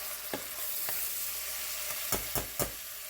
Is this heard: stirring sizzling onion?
yes